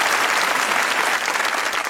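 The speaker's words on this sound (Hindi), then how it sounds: "इन सब के लिए तालियां मेरे ख्याल।" A studio audience at a Pakistani comedy talk show claps in steady, dense applause, loud and continuous throughout the short stretch.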